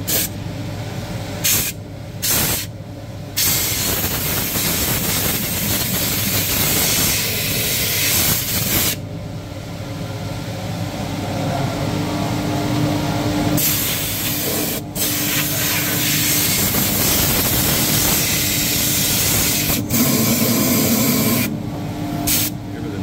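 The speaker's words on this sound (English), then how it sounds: "then we'll give that a blowout so that all that goes up and into the extractor gets taken away" Compressed air blasts out the inside of a Vaner copper cable granulator toward an extractor, a loud close hissing roar running in long bursts broken by short gaps, with no talk.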